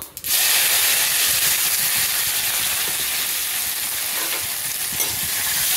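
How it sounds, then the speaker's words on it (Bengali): Taro stolons drop into a kadai of hot oil tempered with nigella seeds and burst into a loud, continuous hissing sizzle that holds steady for several seconds. "ফোড়ন দিয়ে এই কচুরলতিগুলোকে এবারে এতে দিয়ে দেবো।"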